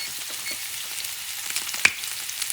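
Rainbow trout sizzles steadily in a hot pan, a close, even frying hiss with one brief clink partway through.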